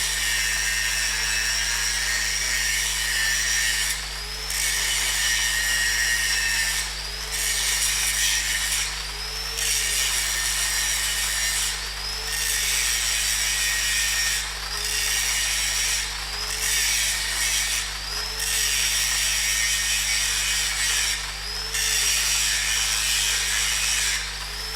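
A wide grinding wheel gouges out a weld to reach sound metal, giving a loud, steady, high-pitched grinding whine with brief dips and surges as the wheel is pressed and eased off, alone without talk.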